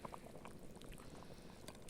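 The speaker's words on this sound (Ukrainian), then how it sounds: "Кипить засильно, треба трошки спокійніше" Steady bubbling and gurgling of liquid boiling vigorously in a pot over an open fire outdoors, continuous and fairly close, with small pops scattered throughout.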